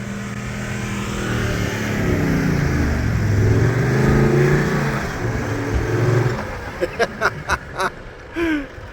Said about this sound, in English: here comes Mossy in his big cruiser